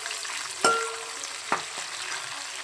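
Green chillies and spices frying in a pan, a soft steady sizzle broken by two sharp metallic clanks of a ladle against the pan, close and without voices.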